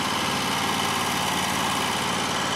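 A Cheetah lawn mower engine labours without a break while cutting thick, wet ground over a septic tank, giving a loud, close, rough drone with a heavy vibrating rumble.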